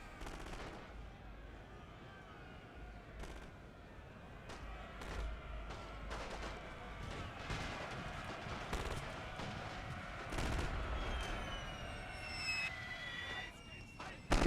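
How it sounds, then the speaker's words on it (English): Rifle and machine gun fire from a First World War game's trench battle, a steady stream of scattered shots and bursts under faint background noise at moderate level throughout. "Opening fire on the trench gunners."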